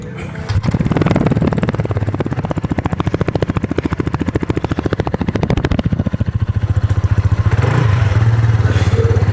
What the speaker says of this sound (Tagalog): mag-sound check po tayo sa muffler